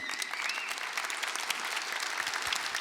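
Audience applause in a conference room, a dense, steady patter of many hands clapping at moderate level with faint crowd murmur and a brief whistle near the start.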